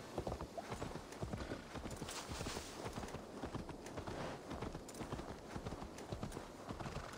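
Horse hooves clip-clop in a quick, steady rhythm in the video game Assassin's Creed Valhalla, close and continuous, over a faint background hiss.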